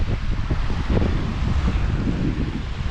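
Wind gusts across the microphone on a hiking trail in Kosciuszko National Park, a steady, loud rumbling roar with no pauses.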